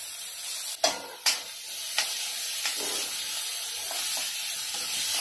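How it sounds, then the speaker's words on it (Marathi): Onion dropped into hot spiced oil, a couple of sharp splashes followed by a steady, close crackling sizzle that keeps on without talk. "आता आपण कांदा पण टाकून घेऊया।"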